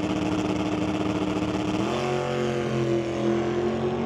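The engine of a 1964 Nova drag racing car drones loud and close with a rough, pulsing burble, then its pitch shifts upward midway as it revs and holds a higher, steady roar.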